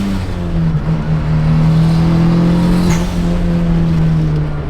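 Rear-wheel-drive car with a swapped Honda L15 turbo four-cylinder pulls hard under acceleration, a loud steady engine drone rising gently in pitch inside the cabin, with no talk.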